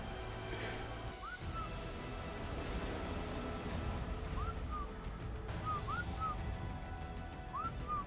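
Player whistle commands to Gigas in ARK Extinction, short rising two-note whistles repeated several times over low game rumble and ambience.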